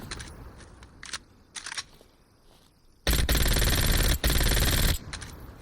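Automatic gunfire in Call of Duty Black Ops Cold War: a few short separate shots, then a loud sustained burst of about two seconds, a brief gap and another burst.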